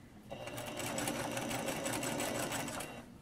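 Sewing machine stitching a flat cap sleeve, a steady, close, fast mechanical whir and rattle that runs for about three seconds with nobody speaking.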